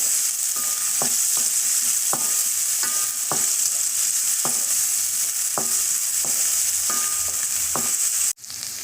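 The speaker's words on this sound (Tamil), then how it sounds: "சின்ன வெங்காயம், பச்சை மிளகாய் போட்டு நல்லா வதங்கணுங்க." Shallots and green chillies sauté in a hot pan for amaranth leaf paratha, with a steady loud sizzle and a regular series of spoon scrapes and stirring clacks, ending in a sharp clank.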